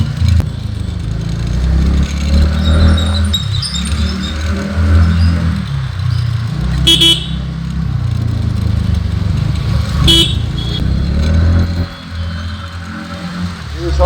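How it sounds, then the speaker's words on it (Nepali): Congested traffic on a rough shortcut road toward Whitefield in Bangalore, with a steady low rumble of car and motorbike engines and occasional revving and clatter close by, continuous throughout. "अभी इधर तो बहुत ज़्यादा जाम है।"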